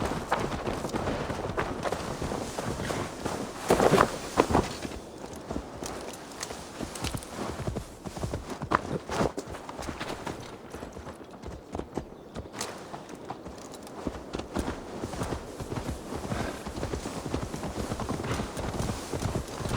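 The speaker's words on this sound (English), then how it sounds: "Now to deliver Magni his horse" Horse hooves clip-clop at a walking pace in Assassin's Creed Valhalla, a steady rhythmic series of close, distinct hoofbeats lasting throughout, with no voices.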